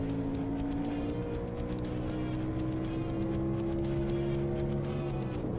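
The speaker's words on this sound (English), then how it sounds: "The Xfinity car is so much fun to drive." Xfinity race car engine in a racing video game, a loud continuous drone with a steady, slowly rising pitch and rapid rhythmic pulsing throughout, heard alone with no talk.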